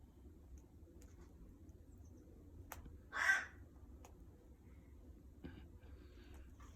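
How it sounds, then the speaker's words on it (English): A single harsh crow caw rings out from a distance over quiet background hiss, with a few faint clicks around it. "You can hear the squawking in the background."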